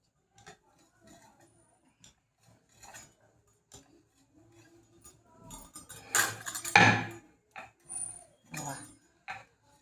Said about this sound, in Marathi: पिझ्झा कटरनं कापायचा जास्त मोठं पण नाही आणि जास्त बारीक पण नाही मीडियम कापा